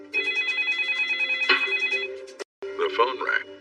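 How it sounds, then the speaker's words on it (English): An old-style telephone bell rings in a rapid trill, pauses briefly, then starts a second ring. It sounds close and clear, with no voices over it. "the phone rang"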